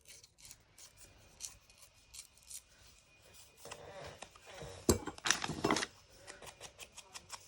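Paper being ripped by hand along the top edge of a junk journal page, a quiet crafting sound that grows into a few louder rough tearing bursts in the second half.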